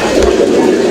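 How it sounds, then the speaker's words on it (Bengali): Pigeons of the Lahori and Sirazi breeds coo close by in a short, loud, steady burst of throaty cooing, with no one talking. "এখানে চমৎকার এক জোড়া কবুতর আছে"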